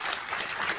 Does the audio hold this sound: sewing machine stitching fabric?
no